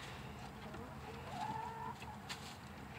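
Backyard chickens around the nesting boxes in a coop, soft clucks and a short rising call at moderate distance over quiet ambient noise, low in level and sparse.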